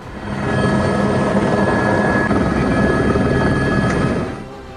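Helicopter hovering over a flooded area during a rooftop rescue of stranded people in Pakistan's monsoon floods, a steady, loud rotor and engine drone holding at constant level throughout, with no voices.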